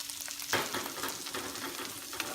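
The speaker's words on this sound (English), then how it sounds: "Give it a stir." Fried tofu and spring onions stirred in a sizzling pan: a quiet, steady frying hiss with a brief clatter of the utensil near the start, no speech.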